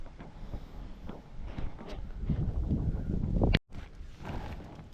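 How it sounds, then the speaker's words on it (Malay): Strong gusting wind on Gunung Ledang, roaring steadily into the microphone with rumbling buffeting, a brief dropout near the end, and no speech. "Sebab angin kuat."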